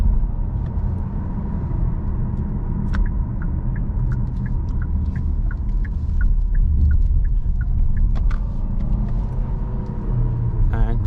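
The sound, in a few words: Hyundai Tucson 2023 PHEV driving in sport mode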